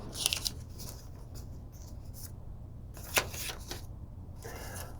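Paper being creased while folding an origami butterfly gives a few crisp, close rustles and sharp crackles separated by quiet pauses, with no talking.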